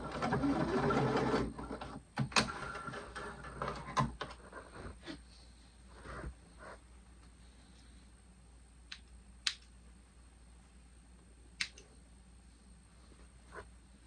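A sewing machine stitches the hem of a dress lining in short bursts, loud whirring at first, then quieter intermittent runs with clicks and pauses.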